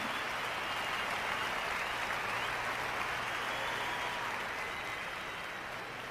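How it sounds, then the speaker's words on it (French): Steady, sustained applause from a large congregation at a French-language sermon, a dense, even wash of many hands clapping together that holds for several seconds without talk. "C'est facile d'applaudir ça"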